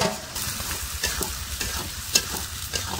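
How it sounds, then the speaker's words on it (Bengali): Spices are stir-fried in hot oil, a close sizzle with quick scraping stirs and small crackling pops in an irregular rhythm, and no one speaks. "মশলাটা ভালো করে কষিয়ে নেবে।"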